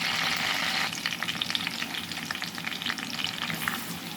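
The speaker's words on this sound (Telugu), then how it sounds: "ఉల్లిపాయ, పచ్చిమిర్చి కూడా వేసేసి కొంచెం లైట్గా ఉప్పు వేసి వేగనిద్దాం" Onions and green chillies frying in oil in a pan, a loud continuous sizzle broken by stirring clatter and bursts of crackle, close and alone with no talk.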